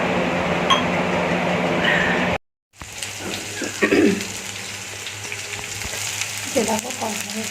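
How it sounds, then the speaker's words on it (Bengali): Potatoes frying in oil in a home kitchen wok: a steady, close, loud sizzle with a brief cut of silence, then continued hissing with stirring clinks of utensils. "দেখো কড়াইটা ভাজছি"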